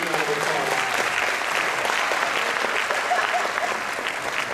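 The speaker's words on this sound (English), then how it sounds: "So give it a good round of applause." A school wind ensemble's spring concert audience applauds, a dense, steady wash of clapping from a large crowd that holds evenly loud for the whole stretch and eases off slightly at the end.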